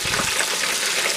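Jumbo 8/10-count shrimp deep frying in hot oil for buffalo shrimp, a steady close, loud crackling sizzle with dense popping bubbles throughout and no voices.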